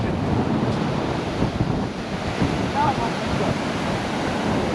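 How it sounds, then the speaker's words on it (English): Ocean waves and surf roll steadily onto a beach as the tide comes in, a continuous loud wash with wind buffeting the microphone throughout. "Whoa, the tide's coming in."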